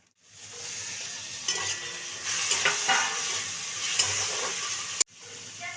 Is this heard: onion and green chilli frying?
yes